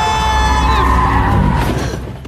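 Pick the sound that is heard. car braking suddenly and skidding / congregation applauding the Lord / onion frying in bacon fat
car braking suddenly and skidding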